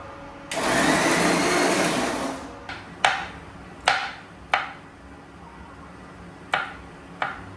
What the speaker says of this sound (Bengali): এখানে বিরিয়ানির জন্য একটু মশলা পিষে দিচ্ছি।